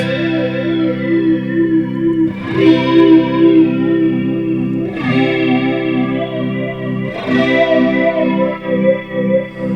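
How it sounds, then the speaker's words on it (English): A sustained electric guitar chord is heard with a sweeping, whooshing flanger effect that swells in slow, repeating cycles about every two and a half seconds. "it's going to sound more flangey because there's less delay time between the two lines"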